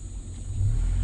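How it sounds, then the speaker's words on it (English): A bus passes close by on a road, a steady low engine rumble that swells and grows louder toward the end, heard from inside a nearby vehicle. "Just wait for the bus to pass"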